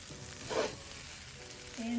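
Day-old basmati rice fries with shrimp in a pan for Chinese-style fried rice, giving a continuous close sizzle with a brief louder swell of stirring partway through and a faint tone near the end.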